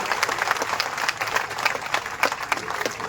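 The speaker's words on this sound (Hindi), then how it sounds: "जोरदार ताली बजाकर" An audience at an outdoor political rally in Rajasthan claps steadily, a dense patter of many hands at moderate distance with no voices over it.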